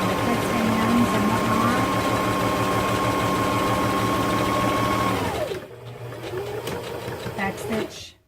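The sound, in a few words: sewing machine back stitching paper towel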